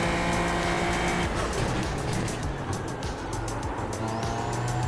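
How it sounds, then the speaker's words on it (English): Loud, steady race car engine roar on a track with a faint, brief squeal from cold tires rising near the end, close up and continuous throughout. "You can hear the tire squealing a little bit there."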